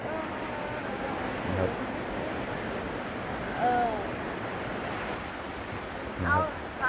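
Steady rushing water of a waterfall in a rift in Iceland roars continuously, a broad wash of falling water with brief faint sounds breaking through now and then.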